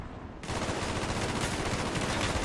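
Rapid gunfire from Call of Duty Black Ops during a chopper challenge, a dense continuous burst of shots that starts abruptly after a brief quieter moment and stays loud and steady to the end.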